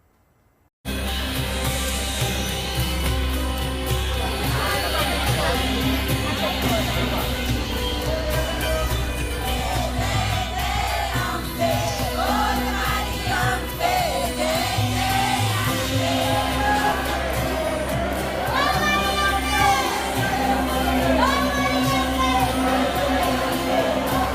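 A large crowd of devotees at the Ambaji temple in the Aravalli hills of Gujarat makes a dense, steady roar of many voices with occasional louder calls and shouts, continuous and close throughout.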